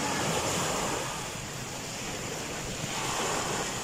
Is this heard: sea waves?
yes